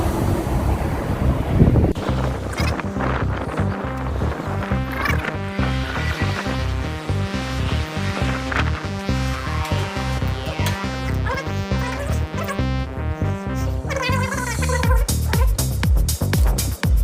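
Strong wind buffets the microphone at a Montana rest area, a loud continuous roar with gusty swells throughout, no one speaking.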